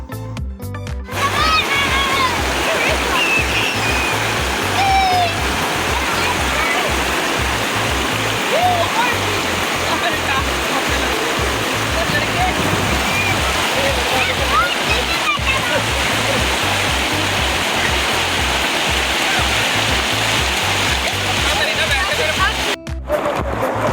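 Cold mountain water rushes and splashes steadily on a hot day along the Hunza road trip route, a continuous loud stream-like roar with scattered splashes and faint voices in the background throughout.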